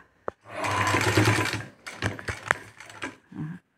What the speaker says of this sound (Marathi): यावर आपण आता शिलाई मारणार